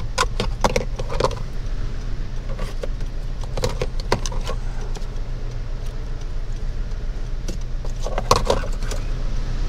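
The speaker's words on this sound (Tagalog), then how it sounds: "Check ko lang yung dalawang susi" Car keys for a 2025 Honda City in Meteoroid Gray jangle in short metallic bursts over a steady low engine hum, close and moderately loud.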